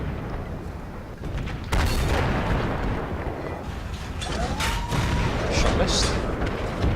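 World of Tanks tank gun firing, a sudden loud boom with a sustained rumbling blast, followed by distant battle noise and a later sharp crack.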